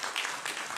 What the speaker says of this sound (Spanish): la cual también pido que lo recibamos con un fuerte aplauso